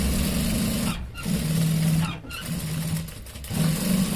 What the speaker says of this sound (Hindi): हमें ये कॉलर की सिलाई लगानी है